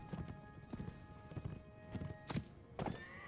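Horse hooves clip-clop steadily in the Mount & Blade video game, with repeated hoofbeats and a couple of sharper knocks, while thin tonal game sounds linger in the background; the sound is fairly quiet overall.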